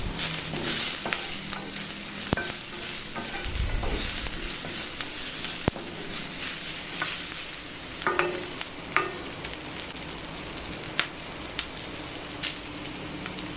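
Chopped onions and garlic sizzle steadily in a skillet with peanut-free cooking fat unstated, while a utensil scrapes and stirs in repeated sharp clicks and taps, close and continuous, without talking.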